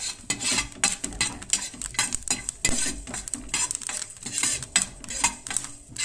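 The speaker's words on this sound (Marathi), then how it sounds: "हे पळयात इल्लेशे जिरे आणि इल्लेशे मेथयो हे न्हय गरम करून घेवपाक जाय." Cumin and fenugreek seeds heating in a pan on medium heat, a soft sizzle with crackling ticks and occasional stirring scrapes, close by, no talking.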